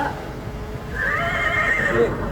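A horse whinnies close by in a city street in Bandung, with a loud, shrill, wavering call that rises and trails off in a second and a half of steady background noise.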